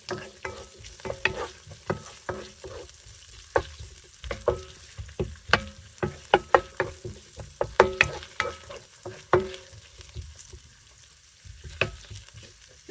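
Paprika sautés in a pan as a utensil stirs it, with soft frying sizzle under irregular scraping taps spread across the clip, close and moderately quiet.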